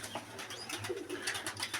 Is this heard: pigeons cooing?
yes